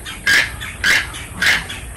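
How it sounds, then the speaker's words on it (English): Amazon parrots at a wildlife sanctuary in West Palm Beach, Florida, give three sharp, loud squawks spaced about half a second apart, close by, with no talking. "there's loose parrots all over the place. These are all Amazon parrots."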